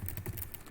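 Quick typing on a computer keyboard, a short close run of rapid key clicks lasting under a second.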